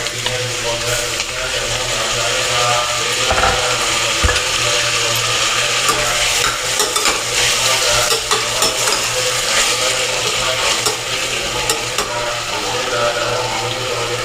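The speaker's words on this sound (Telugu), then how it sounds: "వేగిపోయాక ఇప్పుడు టమాటోస్ యాడ్ చేసుకుందాం" Tomatoes hit a hot frying pan with bitter gourd, sizzling steadily while a utensil scrapes and stirs, with a few sharp clunks early on against a constant fry.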